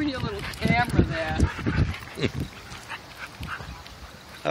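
Two dogs scuffle and play close by, with growls, yips and panting while people talk over them.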